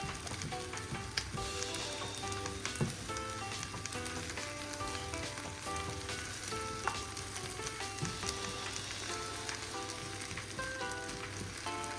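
Eggs being scrambled and fried in a pan beside rice for hibachi-style bowls, a steady close sizzle with occasional scraping stirs and utensil taps, continuous for the whole stretch with no talk.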